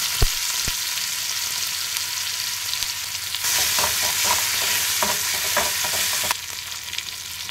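Crushed ginger, garlic and green chillies fry in hot oil for a bottle gourd curry, a continuous hiss and crackle that swells louder midway as they are stirred, with scattered sharper pops.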